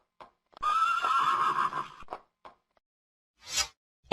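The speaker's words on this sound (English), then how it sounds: "He was riding on a big black horse." A big black horse gives a loud, close neigh, a drawn-out whinny lasting over a second, followed by a snort and faint hoof sounds, with no talking over it.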